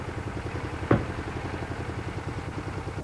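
A motorcycle engine idles with a steady low, pulsing throb, briefly cut by a sharp clatter near the start, then rumbles on evenly and close by.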